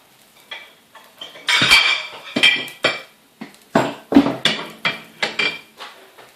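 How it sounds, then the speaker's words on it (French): A plate and utensils being handled on a kitchen counter for pancakes, with a string of close, sharp clinks and knocks of varying loudness. "Donc je prépare une petite assiette pour les mettre dedans."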